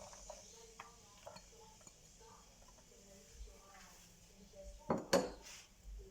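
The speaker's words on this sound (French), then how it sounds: "une fois que j'ai mis mon huile d'olive, je rajoute mon oignon." Chopped onion tipped into hot olive oil in a pan while making bulgur with chicken skewers: soft stirring and utensil taps, then a loud close clatter and brief sizzle near the end.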